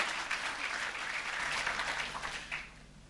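Warm applause from a church congregation, a dense patter of clapping that swells and then eases off, heard without any voices.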